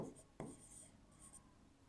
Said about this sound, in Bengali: এখানে একটা সেন্টেন্স লিখলাম, আরেকটা লিখলাম